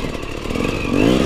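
A motorcycle engine revs at high RPM while the wheel slips, giving a close, loud clattering drone that climbs sharply in pitch toward the end, with no voices.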